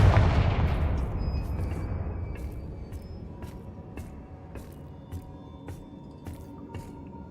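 Confringo blast spell going off in Hogwarts Legacy: a heavy booming explosion at the start that decays into a rumbling tail, followed by a string of sharp, fainter crackling impacts.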